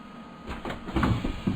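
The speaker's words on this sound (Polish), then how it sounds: "Przed uruchomieniem pociągu otwieramy drzwi dla pasażerów. Naciskamy na klawiaturze T." Passenger doors on an ICE T train in Train Simulator 2017 slide open with a soft mechanical whoosh and a few dull thumps, close and moderately loud.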